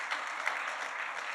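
Brief burst of audience applause at a morning civic gathering for the state of the city address, a steady wash of clapping from a room of people with no talk over it.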